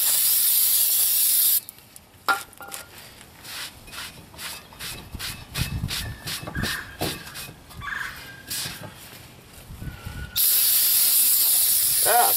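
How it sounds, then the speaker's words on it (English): Sprayer hisses in short repeated bursts during rear disc brake work on a Honda Accord, close to the microphone, interleaved with brief clatter, after steady broadband noise gives way to quieter gaps. "ah, goodness, spraying the camera."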